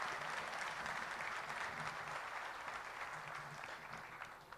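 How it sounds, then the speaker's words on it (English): Sustained applause from an audience at the Bangladesh Business Summit 2025 fills the hall, with many hands clapping steadily and evenly before tapering off slightly toward the end. "Could we please have a round of applause for them?"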